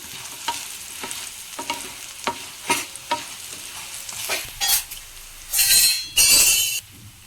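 Fried raw banana pieces are stirred with turmeric in a pan: rhythmic spatula scrapes and clinks over a low sizzle, building to a few louder, longer scraping bursts near the end.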